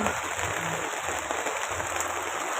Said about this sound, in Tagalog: Sana lakasan pang ulan para madiligan yung mga halaman.